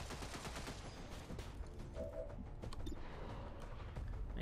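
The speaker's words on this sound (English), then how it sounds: "I really like the thunk there of the heavy autocannon there" A heavy autocannon fires in the video game XCOM 2, laying down dense, continuous, loud thumping bursts of gunfire that fill the whole stretch.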